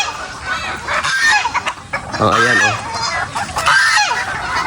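Chickens and geese call and cluck in a busy barnyard, with honking bursts mixed in and brief spoken exclamations over the birds.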